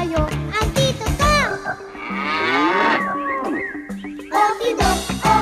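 A cow moos in long, drawn-out calls, loud and close, with cartoonish vocal sounds and brief voices before and after, suggesting other farm animals around such as a chicken and a horse.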